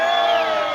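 At a Mukurino thanksgiving event on open grounds in Nyeri, a crowd sends up sustained high-pitched cheering and ululation. The burst is brief and steady.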